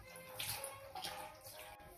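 Water splashing as a face is rinsed after a homemade beauty treatment, soft irregular splashes and trickling, faint and close, with no voices.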